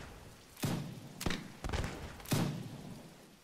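Musket volley gunfire in the video game Mount & Blade, fired in rain: four ragged, scattered reports spread over a few seconds, each a sharp crack with a short tail, no talk over them.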